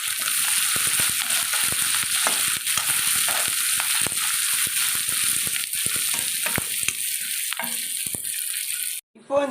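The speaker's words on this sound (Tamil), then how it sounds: "அந்த மஞ்சள்தூள் உப்பும் கொஞ்சம் சேர்த்து இதை பாருங்கள் கிளறி விட்டுருக்கேன்" Potatoes seasoned with turmeric and salt fry in a pan, a loud continuous sizzle broken by repeated scraping and rattling strokes of a spoon stirring them, ending in a brief pause.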